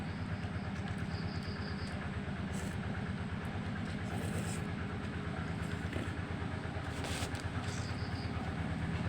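A tractor engine chugs with a steady, low diesel rumble that stays close and constant throughout, with faint higher noises over it.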